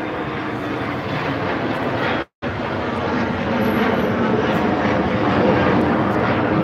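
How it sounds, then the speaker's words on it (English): Airplanes pass low overhead near the Las Vegas airport by the UNLV campus, a loud steady engine roar filling the scene with a brief dropout, while a voice talks faintly underneath. "You can hear the planes going overhead."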